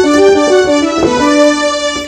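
Rhodes Chroma synthesizer played on a keyboard, a loud, rich sustained tone with several note changes and a brief accent near the middle, heard alone with no talking.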